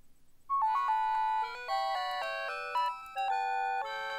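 Bright, loud electronic music from the Mixed-Up Mother Goose computer game running in DOSBox: a steady run of sustained synthesized tones shifting pitch in a simple melody, heard alone with no talk.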